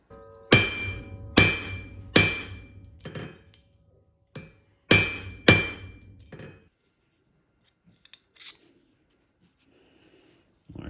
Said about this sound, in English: let's just take that to the anvil and hammer it shut.